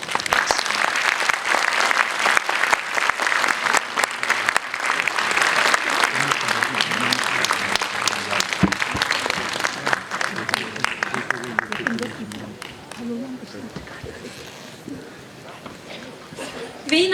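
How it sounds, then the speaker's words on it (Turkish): Loud, sustained applause from a concert audience at a music association's 75th-anniversary autumn concert in Kocaeli, Turkey, as traditional Turkish instrumentalists come on stage. It fills most of the clip and fades near the end. A speaker talks over it. "Şimdi alkışlarınız eşliğinde Kocaeli Büyükşehir Musiki Derneği'nin çok değerli saz sanatçılarını sahneye davet etmek istiyorum."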